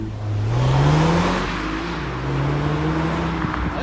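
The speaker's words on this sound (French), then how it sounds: "Tu peux nous faire un vrai départ, qu'on entende le bruit de la S1, s'il te plaît?" Audi S1 with a 2-litre engine pulling away hard from a standstill, revs climbing steadily, easing briefly at a gear change, then rising again, loud and close with no talk.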